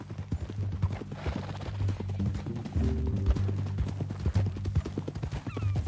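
Horse hooves clip-clop at a steady walking pace in a PS4 video game, close and clear, with a brief neigh in the middle and ambient outdoor background.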